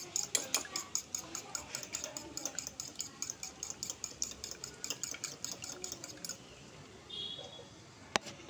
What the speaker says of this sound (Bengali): আমি চামচ দিয়ে ডিমটাকে খুব ভালো করে ফেটিয়ে নেব